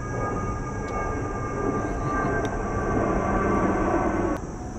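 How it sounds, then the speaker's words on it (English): An airplane passes overhead outdoors with a broad, steady roar that builds slightly and then cuts off near the end. "Oh, we got a plane overhead."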